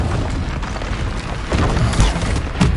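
A Confringo spell explodes during Hogwarts Legacy combat, a steady roar of low booming with sharper blasts near the end, loud and close, no voices.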